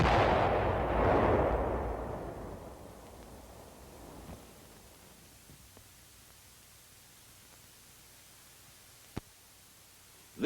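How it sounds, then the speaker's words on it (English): An explosive charge fired to destroy an earthen combat tunnel, heard as a loud, broad rumbling blast that decays slowly over several seconds into quiet, followed later by a sharp isolated crack. "Then the charge is fired."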